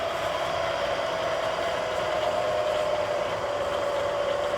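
A milling machine running at high speed, around 800 RPM, while squaring off the end of tubing: a steady, continuous motor hum with a fixed mid tone that stays even from start to finish, with no talk.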